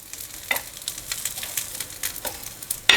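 Corn patties bound with cornflour sizzle steadily in a hot pan while a spatula scrapes and flips them, several soft scraping strokes over the continuous frying hiss, ending in a louder clatter, close up with no talking.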